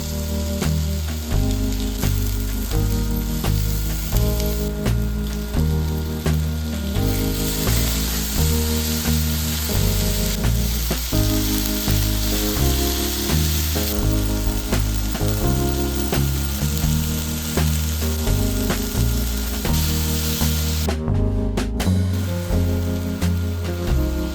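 Vegetable sabzi frying in a pan on an induction cooktop, a loud continuous sizzle running unbroken for a long stretch, with a rhythmic tonal pattern playing over it throughout.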